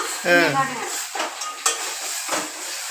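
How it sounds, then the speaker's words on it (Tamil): Tomatoes sauté in a pan for a fish curry, with a steady hiss of frying and several scraping stirs; a voice briefly murmurs near the start. "தக்காளி வதங்கிட்டு இருக்குது"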